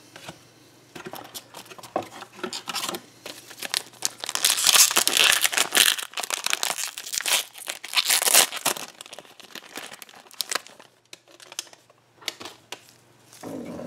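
Crinkly plastic wrappers of Magic the Gathering Oath of the Gatewatch booster packs being torn open and crumpled, close and busy with rapid rustling bursts that swell and fade, with quieter gaps between packs.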